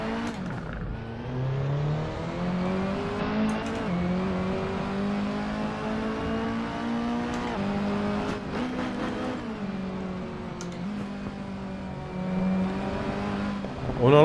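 A lowered Mini Cooper drives with the handbrake pulled, its engine droning and shifting pitch continuously with rising and falling revs, close and loud, with occasional bumps and rattles.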